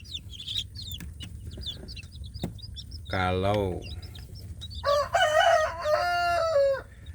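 Free-range village chickens and chicks cluck and chirp amid a man's speech, a rooster gives a short crow, then a longer, loud crow rings out close by.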